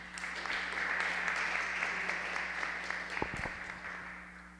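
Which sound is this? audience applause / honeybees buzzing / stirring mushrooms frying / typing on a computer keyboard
audience applause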